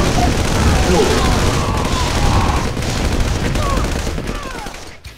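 Defense turrets fire on infantry in C&C Red Alert, a dense, loud barrage of rapid gunfire and booms that continues for several seconds and fades at the end.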